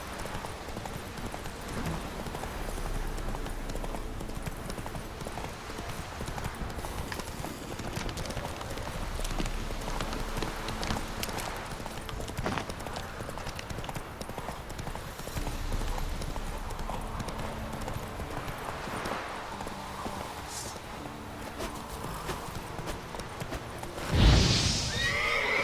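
In the video game Witcher 3, a horse gallops with steady rapid clip-clop hoofbeats over ambient game sound, and a loud neigh bursts out near the end.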